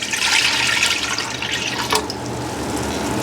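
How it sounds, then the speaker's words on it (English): Apple cider is poured into a cooking pot: five cups going in as a steady, close, splashing liquid stream that runs the whole time, with no talking. "we're going to add the 5 cups of apple cider."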